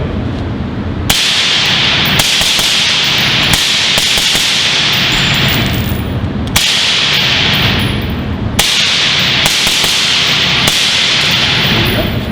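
Suppressed pistol fired on a range, a handful of sharp, loud, close cracks spaced a second or two apart, each leaving a brief hiss of decay, with no talking between shots.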